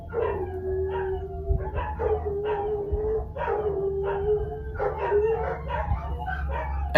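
Several dogs bark and howl together in a steady, continuous chorus, with drawn-out howls rising above sharp yips and barks, fairly close and with no talking.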